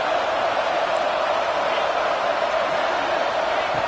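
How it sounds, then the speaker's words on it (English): A Rutgers football stadium crowd roars in a steady, dense wall of cheering that holds constant and loud throughout without pauses. "this crowd is fired up. Listen to this noise here."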